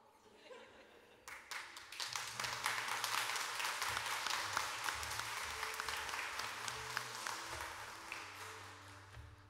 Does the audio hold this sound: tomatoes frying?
no